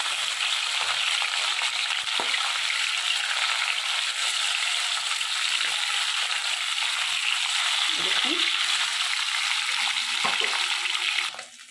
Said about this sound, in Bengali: আমার এখানে মাছটা ভাজা হয়ে গেছে